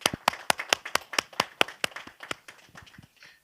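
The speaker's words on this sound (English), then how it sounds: "And a big hand of applause to Alastair." Audience applause for a speaker at the end of a talk on lifelong learning, a small group clapping in sharp, fairly regular claps that thin out and fade over a few seconds.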